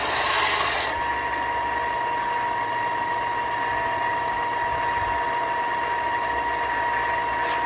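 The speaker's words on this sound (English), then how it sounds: "And there he is using power tools," A power tool rasps steadily against hickory wood for a bow, a continuous grinding drone that holds at an even level throughout.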